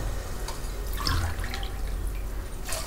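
Water is poured from a drinking tumbler into a pot of broccoli for soup, a close splashing gush swelling in the middle and trailing off, with no talking.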